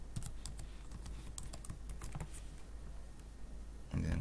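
Fingers type a password on a computer keyboard, a close run of crisp, irregular key clicks that thins out toward the end, followed by a brief louder rustle.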